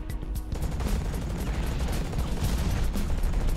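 Rocket hits and explosive gunfire in the mech combat game Hawken: a dense, loud rumble of blasts and impacts filling the whole moment, with no clear gaps.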